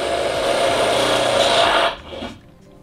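A power drill bores through two layers of sheet metal on a Sprinter van during a rear tire carrier install, whining and grinding loudly and steadily before stopping abruptly and winding down.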